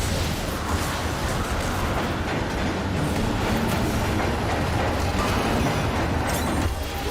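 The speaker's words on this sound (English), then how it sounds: "The train is here." A train rolls steadily into a platform with a continuous rumbling roar, rhythmic wheel clatter and faint mechanical squeals, loud and close throughout.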